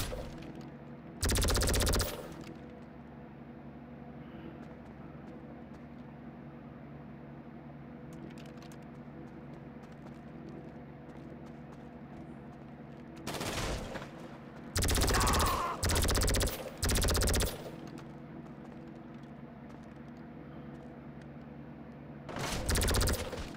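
Bursts of automatic gunfire in Grand Theft Auto 5, loud sustained volleys at the start and a rapid cluster of bursts late on, separated by a steady low engine-like background hum.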